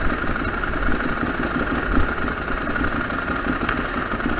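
A Ducati 1098 motorcycle engine idling steadily, a loud, continuous low throbbing rumble with an even, slightly lumpy pulse and no voices.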